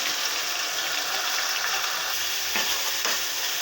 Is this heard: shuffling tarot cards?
no